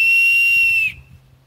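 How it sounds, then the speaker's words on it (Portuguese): An improvised survival whistle made from a finger-thick piece of bamboo gives one loud, shrill, steady note for almost a second, then cuts off abruptly, leaving only faint low background noise. "Fazendo um apito de sobrevivência com bambu"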